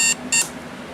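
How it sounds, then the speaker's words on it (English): A Westclox travel alarm clock with a piezo buzzer sounds two short, loud, shrill electronic beeps in quick succession, close by. "it's just a standard alarm clock sound"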